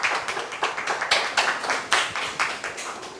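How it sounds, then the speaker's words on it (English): A small group claps, the individual hand claps distinct and fairly close, in uneven bursts with a slight pulsing rhythm. "Let's give a hand of applause for them."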